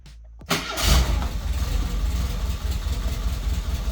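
A 1978 VW Passat B1 engine cranks briefly and catches almost instantly, then settles into a steady, loud, slightly uneven idle close by, with no talking.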